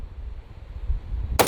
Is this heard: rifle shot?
yes